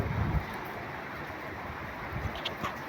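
Steady, heavy wind roaring across the microphone during a storm strong enough to topple banana plants, a constant broadband rush with a few stronger gusts, no voices.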